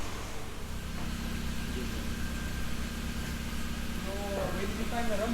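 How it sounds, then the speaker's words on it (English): A car engine idling unevenly due to an unsettled idle control, a steady low rumble with slight wavering, heard from inside the car while someone talks over it. "So the idling is a bit funny on the car."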